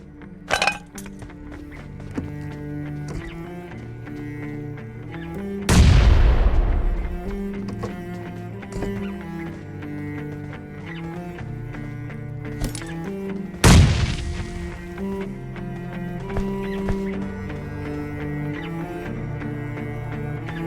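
Grenade blasts in BGMI gameplay land as two heavy booms, one after the other, each with a deep rumbling tail, over a busy bed of in-game music and effects.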